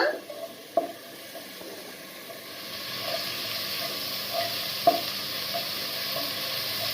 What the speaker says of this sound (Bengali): পেঁয়াজটা নাড়ছে তেলে, ভাজছে পেঁয়াজটা।